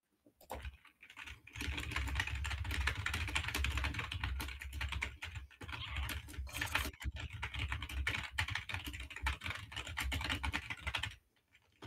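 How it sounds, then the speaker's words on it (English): Rapid clicky typing on a computer keyboard, a dense stream of close keystrokes running almost nonstop for about ten seconds before stopping abruptly, alone without speech. "I just hear you typing"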